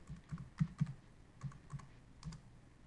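Password typed on a computer keyboard during software configuration, a quiet run of irregular key taps with a few firmer strokes spread across about three seconds, close and alone with no talking.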